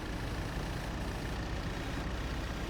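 A tractor engine runs steadily with a continuous low, rumbling drone, moderately loud and unchanging, with no voices.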